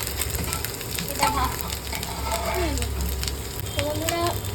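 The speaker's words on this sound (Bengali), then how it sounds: "এটা ভাজা হোক" Chopped garlic frying in a pan gives a steady close sizzle with light crackling throughout, while faint voices are heard in the background.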